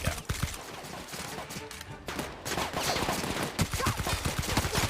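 Rapid gunfire in The Outer Worlds, a sci-fi role-playing shooter, with dense bursts of shots cracking over a busy battle din, several sharp reports standing out near the start and in the final seconds, and some speech mixed in.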